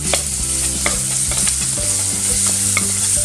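Sliced onions fry with ginger garlic paste in a pan as a spoon stirs them, making a steady close sizzle broken by regular scraping clinks, with no talking.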